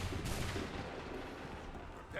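A volley of musket gunfire in Assassin's Creed rolls out as a loud, sustained barrage that gradually fades over a couple of seconds.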